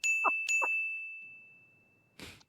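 A Ring doorbell chime plays a clear two-note ding-dong, alone and close, with a long ringing tail that fades before a short rustling burst at the end.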